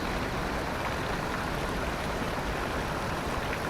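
A river flows near Uma Anyar waterfall in Bali, a steady broadband rush of moving water, close and constant with no voices.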